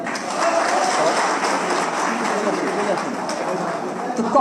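A crowd applauds at a formal election meeting after a name is read out, a dense continuous wash of clapping lasting several seconds with talk mixed in.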